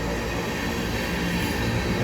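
An empty ethanol train of about 500 cars rolls slowly along a siding toward a signal, making a steady, loud rumble of wheels and cars close by with faint squealing.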